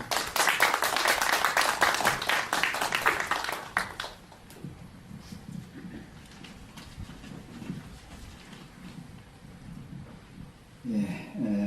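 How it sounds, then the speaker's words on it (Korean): Audience clapping at a Korean foundation's guest lecture on international justice, a dense burst of many hands for about four seconds that then thins and fades into a quieter, murmuring hall. "큰 박수 부탁드리겠습니다."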